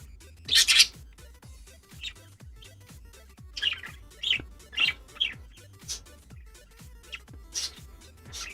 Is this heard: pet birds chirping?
yes